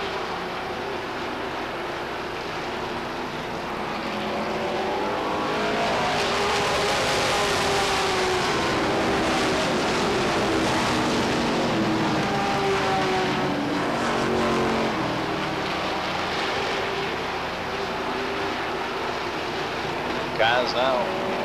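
Stock cars racing at Beech Ridge Motor Speedway during weekly short-track competition in 1992, a steady roar of engines sweeping past with rising and falling pitch, heard continuously at a distance beneath a race announcer's commentary.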